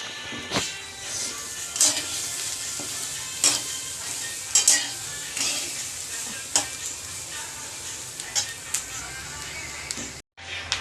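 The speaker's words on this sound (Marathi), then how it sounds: "मध्ये मकाचे दाणे टाकलेले आहेत हे मस्त असे दहा मिनिट तरी भाजून घ्यायचे आणि मध्ये मध्ये हलवत राहायचे" Maize kernels roast dry in a pan, giving a steady crackling hiss broken by irregular sharp scrapes and clinks of stirring, close and fairly loud throughout.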